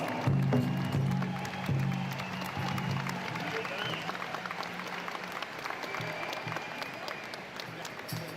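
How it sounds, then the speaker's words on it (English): A crowd at a reconciliation gathering in Winnipeg applauds and cheers steadily, loudest at the start, with a voice talking over it through much of the clip. "make some noise. Put your hands together."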